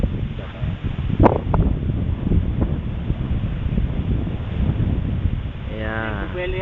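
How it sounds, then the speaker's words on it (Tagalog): Strong wind buffets the microphone at a polo field, a constant rumbling roar with gusty swells, while people talk over it. "Grabe hangin."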